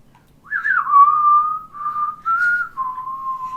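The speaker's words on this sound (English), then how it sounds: "I whistle a Western theme." A person whistling a Western theme tune, a clear solo melody of sustained, sliding notes with short breaks, close and loud in a quiet room.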